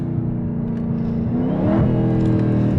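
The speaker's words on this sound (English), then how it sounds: "When I hear that supercharger whine to get me excited." A Dodge Hellcat Charger accelerating hard toward top speed, its supercharger whine climbing in pitch over a loud, close engine roar heard from inside the car.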